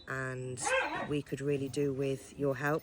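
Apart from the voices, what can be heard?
dogs barking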